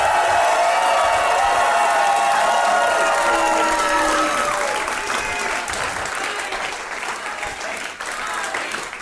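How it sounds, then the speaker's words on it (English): A live comedy show audience at Stage 773 breaks into loud, sustained applause with cheering and whoops, dense clapping that gradually thins and softens toward the end. "the biggest round of applause you can muster for Arnie Niekamp"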